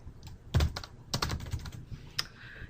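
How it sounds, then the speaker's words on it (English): Ctrl and V keys pressed together on a computer keyboard to paste, heard as a handful of crisp, close key clicks and thunks spread over a couple of seconds in a quiet room. "hold down CTRL and the V key at the same time"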